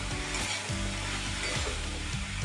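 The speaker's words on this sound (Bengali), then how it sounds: "ঢাকনাটা খুলে আরও 2 মিনিট আমি কপিটাকে কষিয়ে নেব" Cauliflower being sautéed in an uncovered pan produces a dense, continuous sizzle and crackle, with faint stirring movement throughout the short stretch and no voices.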